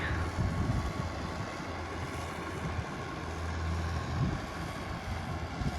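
A heavy MTZ 1221 tractor engine drones steadily and continuously at a distance while ploughing a field, a low rumbling hum with no voices.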